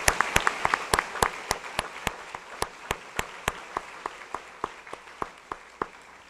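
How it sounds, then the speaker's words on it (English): Sparse clapping at a school convocation gathering: a few distinct, sharp hand claps ring out in a loose, uneven rhythm over a quiet room, thinning and fading toward the end. "So if you could give them a round of applause."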